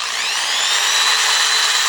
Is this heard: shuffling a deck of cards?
no